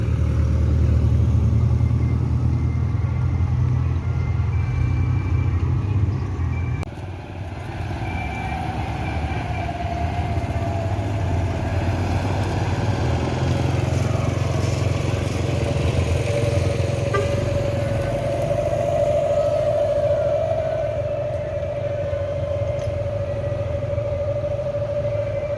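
Tronton truck moving through dense traffic on a busy road, a steady low engine rumble throughout with a rising whine in the middle and traffic noise around it, no voices.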